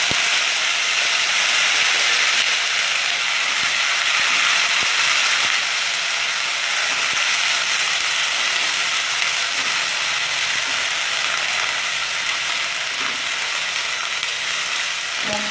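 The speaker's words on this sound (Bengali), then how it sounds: "এবার আমি দিয়ে দিচ্ছি পেঁয়াজ বাটা।" Onion paste is added to hot oil in a pan where sliced onions have fried golden brown, producing a loud, continuous, dense sizzle that carries steadily throughout with no talking.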